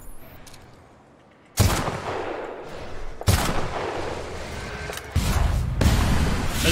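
Gunfire in The Outer Worlds: after a quiet stretch, several sharp, loud shots crack out one by one with short gaps between them, each followed by a ringing tail, the later ones heavier and booming.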